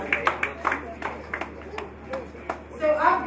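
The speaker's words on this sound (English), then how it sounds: "Guys, applause please." Scattered audience applause at a 2019 hackathon event, a handful of separate claps ringing out sparsely in a room, fairly quiet and thin, with a voice speaking near the end.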